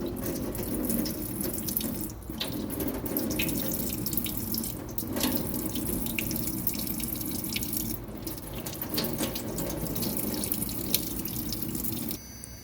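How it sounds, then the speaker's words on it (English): Tap water runs steadily into a sink as a polished watch crystal is washed, a continuous close splashing hiss with a few small drips, lasting throughout and ending abruptly. "Wash the polished crystal with water."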